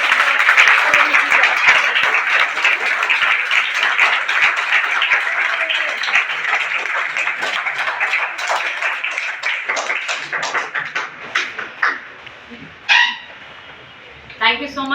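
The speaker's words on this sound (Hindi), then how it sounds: "तालियों से स्वागत कीजिए।" An indoor audience applauds to welcome a motivational speaker, dense sustained clapping that thins into scattered individual claps before fading, with a voice briefly heard near the end.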